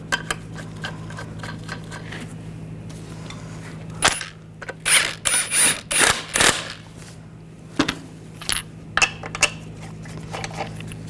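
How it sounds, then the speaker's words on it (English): A lug nut is spun and threaded by hand onto the wheel stud of a 2014-2018 GMC Sierra 1500 front wheel, giving a run of clustered metallic clinks and rattles, close by, over a steady low hum. "Now put the wheel on. Get the lug nut started."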